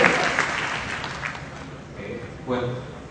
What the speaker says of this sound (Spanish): Recibamos a Walter con un fuerte aplauso